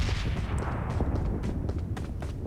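Gunfire in the mobile battle-royale game PUBG Mobile, with dense rapid shots and booming blasts packed together in a loud, continuous barrage.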